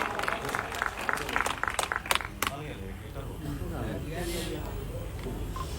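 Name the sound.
applause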